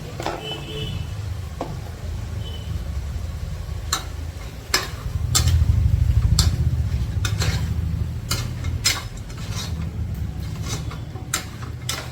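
Onion and green chillies fry in a pan on the stove, a low steady sizzle under sharp intermittent clicks and scrapes of a spoon stirring against the metal, close by with no talking.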